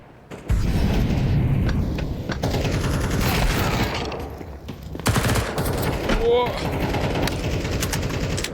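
Bursts of rapid gunfire and booms in a Counter-Strike 2 esports match between Falcons and GamerLegion, dense and loud, with an excited commentator talking over it.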